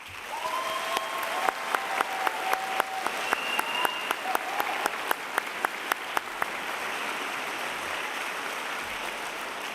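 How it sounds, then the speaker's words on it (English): An audience at a university graduation ceremony for the arts and humanities schools applauds staff with sustained, dense clapping, while sharp intermittent thumps punctuate the first two-thirds and a faint tone drifts through the early part. "Let's give them a round of applause"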